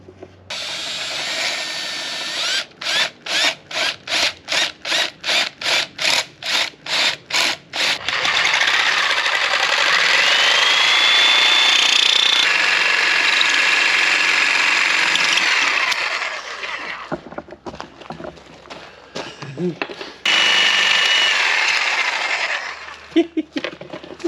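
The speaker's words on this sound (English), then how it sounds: "get the Sawzall blade in, and just very carefully cut around the diameter" A reciprocating saw runs in short rapid pulses, then cuts continuously through metal for several seconds before stopping; loud, close, with a thin metallic whine.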